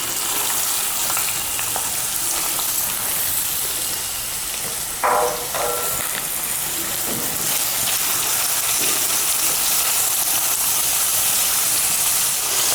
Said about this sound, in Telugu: ఈ 3 ఉల్లిపాయలని చిన్న చిన్న ముక్కలుగా కోసుకొని దీంట్లో వేసుకోవాలి.